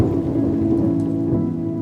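A thunderstorm: heavy rain falls steadily and loudly beneath a deep, rolling rumble of thunder across the whole short stretch, with no voices.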